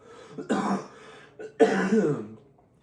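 Two harsh, chesty coughs, each a short rough burst, sounding close and clear with a brief pause between them and quiet around them.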